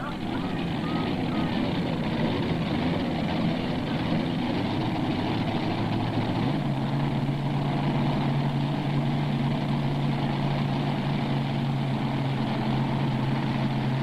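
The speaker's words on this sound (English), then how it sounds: "500 cubic inch blown Chevrolet powering this modified tractor out of Fairbanks, Indiana" A 500 cubic inch supercharged Chevrolet engine in a modified pulling tractor idles with a loud, steady rumble that shifts into a deeper, even drone partway through, at a 1995 tractor pull in Imlay City, Michigan.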